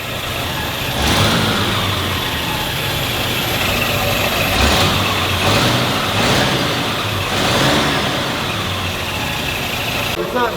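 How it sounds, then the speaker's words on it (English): A 1935 LaSalle car engine with its air box fitted idles roughly and revs up a few times up close without stalling, with voices talking over the steady rumble. "It's not dying now when revving,"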